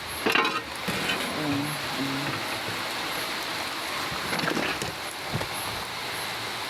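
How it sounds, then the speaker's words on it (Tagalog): Steady heavy rain pours down, a dense hiss with patter on surfaces, constant and loud throughout with a few faint voices in the background. "Malakas ang ulan."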